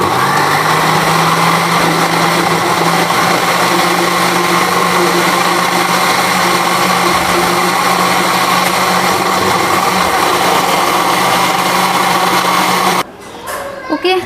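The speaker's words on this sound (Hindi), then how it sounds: "मैंने जो है हरे धनिया को ग्राइंड कर लिया है" An electric blender grinding fresh green coriander, a loud, steady whirring motor roar that runs unbroken for about thirteen seconds before cutting off abruptly, followed by brief clattering.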